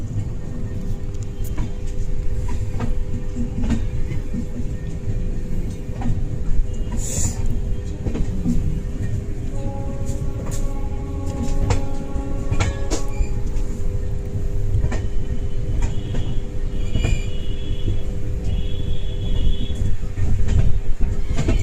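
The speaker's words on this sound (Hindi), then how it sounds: "बहुत ही स्लो स्पीड से जा रही है ट्रेन।" Passenger train, the Champaran Satyagrah Express between Anand Vihar Terminal and Bapudham Motihari, rolling slowly along the rails near Munderwa station, with a steady loud interior rumble, faint wheel clatter and brief squeals, no talk.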